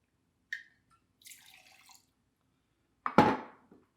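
Two ounces of Flor de Caña extra seco rum are poured, heard as a quiet tick and faint rustle, then a brief, close liquid splash lasting under a second in an otherwise silent room.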